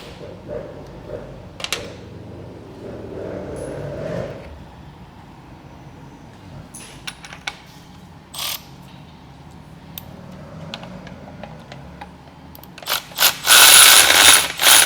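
A thread tap is turned into a part of a 2023 Harley-Davidson Road Glide Limited engine: sparse metallic clicks and ratcheting ticks over a low workshop hum, then a louder, denser burst of clattering near the end.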